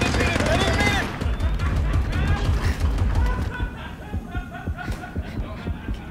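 Gun firing in a video game as rapid bursts of shots, dense at first and thinning out, mixed with excited voices talking over it.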